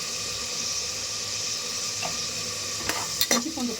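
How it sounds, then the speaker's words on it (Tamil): Ginger and garlic sizzle with onions in hot oil in a pan, a steady frying hiss with a few sharp clinks of a spoon stirring near the end. "இப்போ இஞ்சி பூண்டு போட்டு நல்லா வதக்கலாம்."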